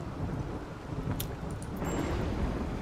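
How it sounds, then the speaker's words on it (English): Rain hisses steadily through a thunderstorm in the video game Rimworld, with low rumbling thunder rolling underneath and a couple of brief higher crackles, loud and continuous without any voices. "now we've got fires breaking out from a thunderstorm"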